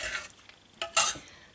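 A spoon stirs fermented cream in a container for making butter, giving a couple of short, close, wet scraping swirls, each followed by a brief pause, quiet with no talking.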